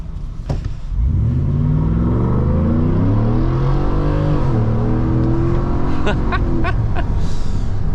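A Ford Raptor pickup truck engine roars loudly from inside the cab, climbing in pitch through revs with audible upshifts and sharp pops near the end, under steady road rumble.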